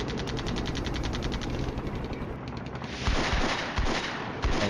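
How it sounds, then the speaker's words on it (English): Dense, continuous gunfire and explosive bursts from a Cold War tank battle in the wargame Flashpoint Campaigns, a loud rolling barrage with sharper impacts toward the end. "And we're like engaging with gunfire."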